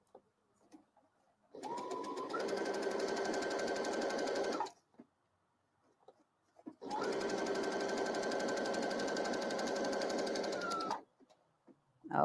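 Serger sewing a fabric and elastic strip, with two loud sustained runs of about three and four seconds separated by quiet gaps and small handling clicks.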